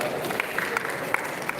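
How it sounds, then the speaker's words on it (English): Students and guests at a school safety meeting in Nigeria give moderately loud, steady applause, with a faint murmur of voices mixed into the clapping. "A round of applause for yourself"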